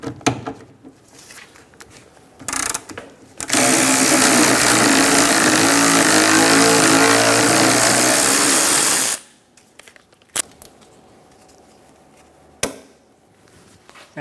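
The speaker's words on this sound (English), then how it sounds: "Using a 17mm socket, we're going to remove the nut for the sway bar link." A ratchet with a 17mm socket removing a sway bar link nut on a 2003-2007 Honda Accord, a loud continuous buzzing run of several seconds framed by short clicks and quieter handling noises.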